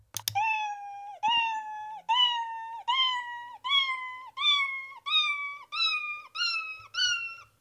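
A single cat meow sound effect in Scratch repeats ten times in steady succession, each repetition slightly higher in pitch, clear and close with nothing else around it.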